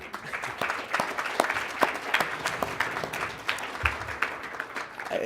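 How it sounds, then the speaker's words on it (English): Youth change-makers at a global youth engagement gathering on ending malaria are applauded by the audience, a sustained round of clapping with distinct sharp claps standing out near the listener, continuing for about five seconds. "Let's give you a round of applause."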